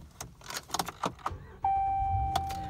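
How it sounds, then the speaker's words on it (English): A 2014 Ram 1500 SLT pickup with a lined box is started: keys jangle and handling noises come first, then the engine fires and settles into a steady idle, joined by a sustained electronic chime tone. "I'm just going to start the vehicle for you."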